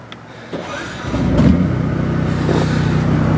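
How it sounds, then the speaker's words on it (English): The generator on a 2018 Airstream Interstate RV built on a Mercedes-Benz van cranks briefly and then settles into a steady, close mid-pitched engine drone that holds to the end. "And then another great addition is when we start the generator."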